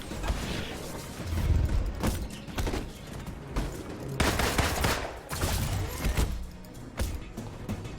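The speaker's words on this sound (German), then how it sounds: "Wer hat da auf die Sicherheitsdrohne geschossen?" Gunfire at a security drone in the Avengers video game: dense, rapid bursts of shots mixed with mechanical clanks and impacts, loud and continuous throughout.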